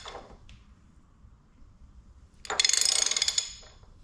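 A ratchet tightens a crankshaft seal installer tool on a Cat C15 diesel engine. A soft click comes first, then after a quiet gap a quick loud burst of metallic ratcheting clicks lasting just under a second.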